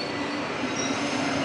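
A train at Gapyeong Station in Korea, a steady rolling rumble with a thin metallic wheel squeal running through it, close and continuous with no voices.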